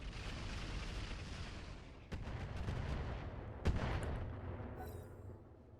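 Battletech Roguetech battle sounds: a rumbling wash of explosions with sharp cracks of weapon fire punctuating it, two distinct blasts standing out before the din fades away.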